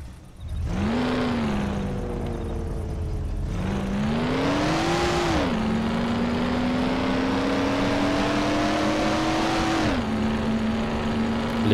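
A very fast old car with no working lights in the Mafia video game revs hard, its engine note climbing in loud repeated sweeps, then holding a high, steady whine near the listener.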